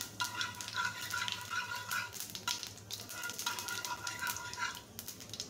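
Dry cumin seeds fry in a pan of hot oil with a steady crackling sizzle that runs unbroken, close and moderately loud, with no voices over it.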